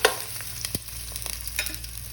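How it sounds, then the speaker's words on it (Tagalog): Garlic sautés in a pan with a soft, continuous sizzle and a few quick scrapes as it is stirred, close and fairly quiet with no talking. "nagigisa po tayo ng bawang. Gisa po natin yung bawang."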